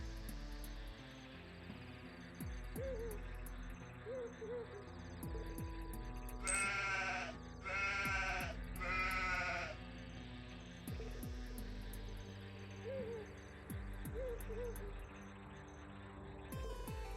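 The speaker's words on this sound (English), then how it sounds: "These poor goats were left to fend for themselves." Goats bleat repeatedly in the video game Final Profit, short wavering cries spread across a humming game soundtrack, with a brief burst of louder noise in the middle.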